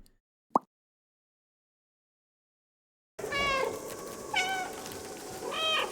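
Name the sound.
cat meowing in the video game Stray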